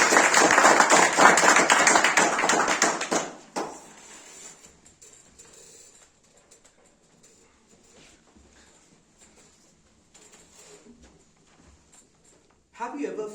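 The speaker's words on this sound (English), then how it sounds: "Can we please have a 10 out of 10 round of applause?" Audience applause for a public-speaking talk on mentorship: a dense burst of many hands clapping for about three and a half seconds, then it fades into sparse scattered claps and quiet room noise, with a brief louder patch at the end.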